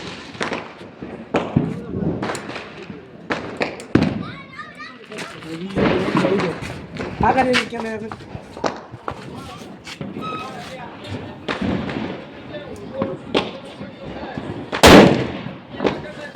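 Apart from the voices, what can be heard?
Diwali firecracker bomb exploding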